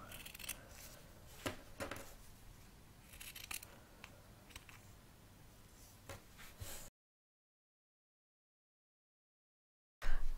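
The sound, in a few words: scissors cutting felt pieces in half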